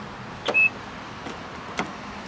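A 2012 Nissan Latio hatchback locks with its keyless entry button, giving a short electronic beep followed by a couple of soft mechanical clunks from the door locks in a quiet setting.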